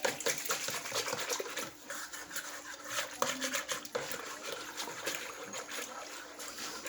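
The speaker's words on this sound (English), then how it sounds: "we're just going to whisk our yeast in here and get it dissolved" Yeast being whisked into water in a Tupperware bowl for no-knead bread, a steady wet swishing and dribbling churn that runs continuously at close range, with no talking over it.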